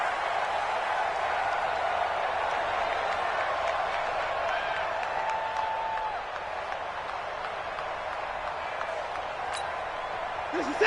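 Stadium crowd noise from a PS4 football video game in overtime, a steady, dense roar of cheering and murmur that holds at an even level throughout with no voices standing out.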